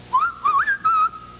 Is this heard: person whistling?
yes